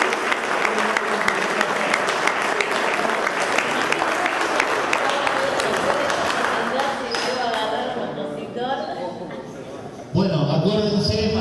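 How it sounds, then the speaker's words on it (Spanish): Audience applause at a political rally in a neighborhood gathering, a dense steady clapping that fills most of the clip, thins out near the end, then swells again briefly, with crowd voices mixed in. "Vuelvo a pedir un aplauso"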